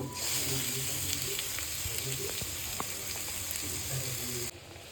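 A steady, close hiss of spice paste frying in oil with dried fish, with small pops and stirring scrapes throughout.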